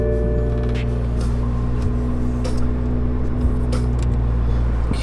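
A 2020 Toyota Supra's engine runs at a steady idle, a constant close-up drone with a smooth hum and a few faint clicks, without talk.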